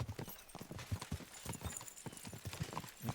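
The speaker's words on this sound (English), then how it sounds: "We should spur the horses" Horses gallop in the medieval video game Kingdom Come: Deliverance II, with quick, rhythmic hoofbeats thudding steadily and fairly softly throughout.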